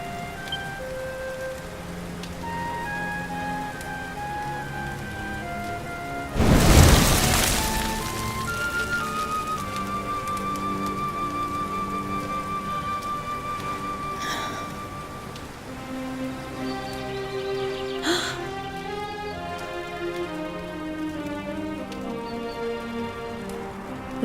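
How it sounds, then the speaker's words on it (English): Rain falls steadily with a soft, even hiss under sustained video game music in Dragon Quest XI. One loud crashing burst briefly rises above it, and the rain continues throughout without any talking. "Looks like the rain's dying down."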